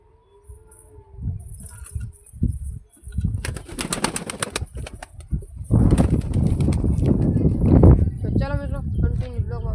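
Pigeons kept at home flutter and shuffle nearby, with bursts of wing flapping and faint cooing mixed under a person talking.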